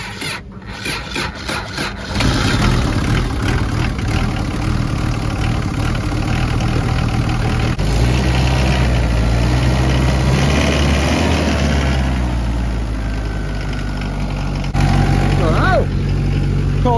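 A loading shovel's diesel engine cranks briefly after its fluids are topped up, then catches and settles into a loud, steady idle with a low rumbling drone that carries on to the end.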